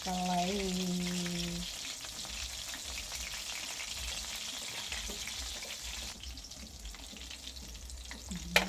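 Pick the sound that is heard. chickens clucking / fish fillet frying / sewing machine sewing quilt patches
fish fillet frying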